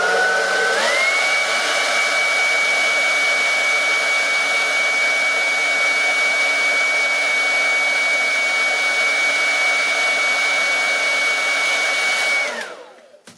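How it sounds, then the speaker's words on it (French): A hair dryer, used to heat a Huawei P30 lite phone while replacing its back glass, starts up with a rising whine, blows at a steady loud roar for several seconds, then winds down and cuts off. "Je reprends le sèche-cheveux."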